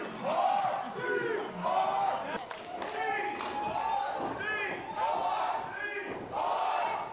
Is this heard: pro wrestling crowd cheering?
yes